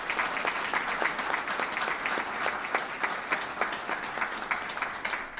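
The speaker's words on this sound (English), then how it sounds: "I want to just give a special round of applause to all the members of" Breakfast event audience applauding members of the state police, steady sustained clapping from a room of people with individual claps standing out, no talk over it.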